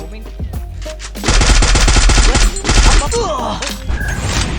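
Loud, rapid automatic gunfire in the mobile battle-royale game Free Fire, arriving in sustained close bursts broken by short gaps, with a player's voice faintly underneath.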